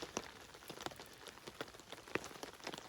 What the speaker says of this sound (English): It's been raining all night.